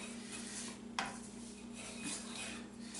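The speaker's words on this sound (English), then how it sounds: "we're going to stir it, and this is what's called toasting" Spice mixture being stirred and toasted with onions and peppers in a pan over a fire, giving a close, steady scraping and rubbing with a sharp utensil knock near the middle, under a constant low hum.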